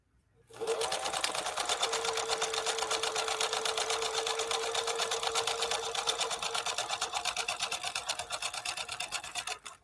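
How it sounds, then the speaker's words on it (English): A 1957 Phoenix 283F sewing machine, German-built by Adler, runs a steady zigzag stitch through quilt batting, its fast needle rhythm continuous and close for nearly ten seconds before a brief start-up pause. "now let's do a zigzag going down and we'll see what we think of this one"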